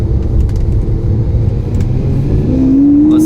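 A Lamborghini Aventador S engine rumbles and then revs upward, the pitch climbing sharply near the end as it accelerates, heard close and loud.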